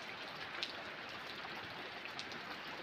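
Heavy rain falls steadily, an even hiss of drops with a few sharper patters on nearby surfaces, fairly quiet overall and with no voices.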